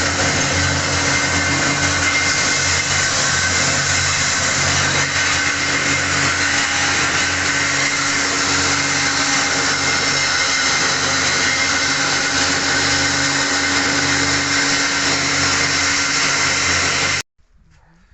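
DTZ KR-30A grain crusher running on a mix of corn, wheat and barley, giving a loud steady whirring motor drone that stays constant close by, then cuts off abruptly near the end, with no voices.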